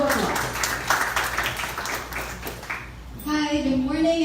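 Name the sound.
audience applause for a speaker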